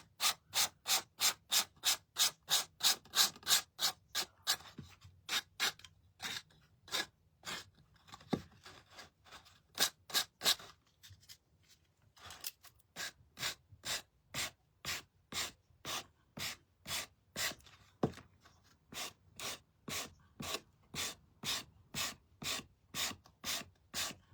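Rapid, rhythmic rubbing strokes scrape paint off a painted wooden piece to chip and distress it, repeating steadily at close range with a brief pause midway and no talking.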